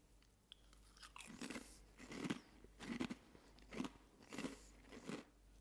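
Bites and chews of crunchy cream and onion snack chips, about six crisp crunches in a steady rhythm, close and clear with no talk.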